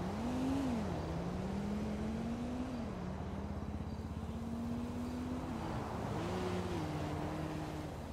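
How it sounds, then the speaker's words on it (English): A GTA car engine hums steadily with shifting revs, a synthetic video-game vehicle sound idling and rising slightly, continuous and moderately loud. "I hear a car stopped."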